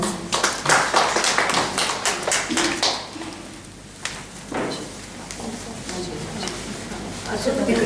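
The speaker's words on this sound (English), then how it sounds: "A big round of applause to all of them" An audience at a female homeopathic doctors' association function in Satara gives a burst of clapping that is strongest early, fades, then returns more loosely, with talking over it.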